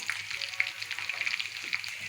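Garlic, whole chillies, curry leaves and cumin fry in hot tempering oil for Hyderabadi khatti daal, giving a steady close sizzle dotted with small crackling pops, heard alone without talk.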